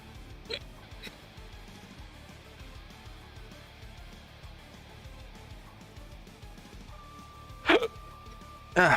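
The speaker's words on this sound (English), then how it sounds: "Hiccups." A few short, sharp hiccup bursts stand out over a quiet indoor background, one early and two close together near the end.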